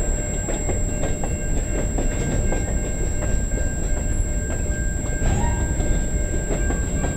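A freight train rolls by steadily into a rail yard, a dense rumble with rhythmic clickety-clack of wheels and a faint squeal, close and continuous.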